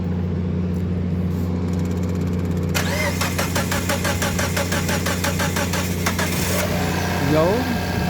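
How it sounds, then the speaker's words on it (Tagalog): A Mitsubishi Lancer's engine, just back from a top overhaul, cranks and catches, then runs with a steady, close mechanical clatter over a constant low hum before settling. "Tingnan na natin kung i-start na."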